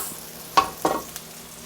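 Beef going into a hot pan with ginger and garlic: a brief stir-scrape and a couple of sharp sizzling bursts over a low, steady frying hiss, heard close up without talk.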